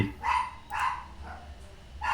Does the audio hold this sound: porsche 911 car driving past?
no